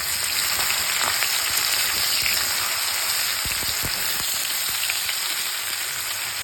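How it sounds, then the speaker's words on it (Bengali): Marinated okra frying in mustard oil for bhindi masala, giving a steady, dense sizzle and crackle throughout with no voices. "এতে আমরা ওই যে ম্যারিনেট করে রেখেছিলাম ভিন্ডিটাকে দিয়ে দেব।"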